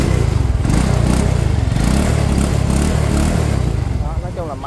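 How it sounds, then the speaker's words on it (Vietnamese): Idling engine of a used Japanese motorcycle for sale at a Vietnamese dealer, running steady and smooth with an even low putter, close and loud throughout, with voices talking over it. "máy nổ em ru"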